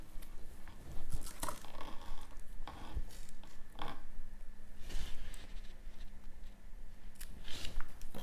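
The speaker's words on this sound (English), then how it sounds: "Need the ribbon cutting scissors." Scissors snip through paper craft ribbon, with a few crisp cuts and rustling handling noises spread across several seconds, close and fairly quiet, with no talking.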